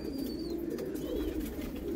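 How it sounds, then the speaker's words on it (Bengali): A domestic pigeon coos softly and steadily at close range in a quiet home setting, a low continuous rolling coo with no talking. "তো আমি এই ভাইকে পায়রা দুটো দিয়ে দিলাম। আমার বাড়ির পায়রা"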